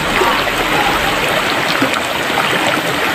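Creek water flows steadily over rocks outdoors, a loud continuous close rush and gurgle with no break throughout.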